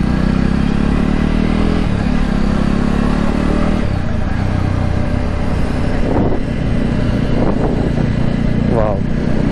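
A Jawa motorcycle engine runs steadily during a ride, a loud low rumble mixed with wind buffeting and occasional revving, with someone talking over it.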